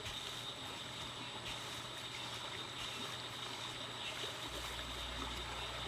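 Creek water flowing in a steady, faint, continuous trickle and babble, with no voices over it.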